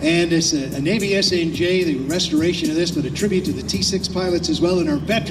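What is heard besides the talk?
No everyday noises stand out.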